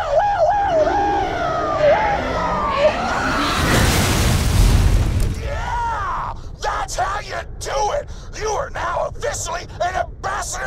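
A loud boom-like blast from a video game, with shouting voices and game effects around it, followed by choppy bursts of sound.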